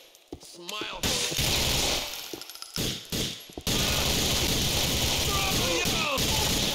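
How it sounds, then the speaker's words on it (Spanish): Bursts of gunfire from the video game Grand Theft Auto 4, starting as scattered sharp shots and then building into a loud, sustained barrage with crashing impacts, with someone talking over it. "Con tanto ruido de disparos."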